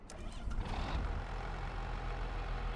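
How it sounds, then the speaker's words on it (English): A tractor engine in Farming Simulator 25 cranks and catches, then settles into a steady, close, heavy low rumble that runs unbroken to the end, with no voices. "let's get the tractor fired up"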